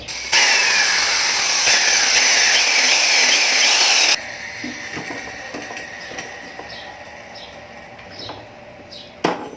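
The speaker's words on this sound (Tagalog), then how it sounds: "bago natin butasan ng malaki, maliit muna ng drill bit na gamitin natin" Small drill bit boring a pilot hole for a rearset bracket on a Wave 125 scrambler build, a loud, steady high whine that cuts out partway, followed by quieter workshop clicks and taps.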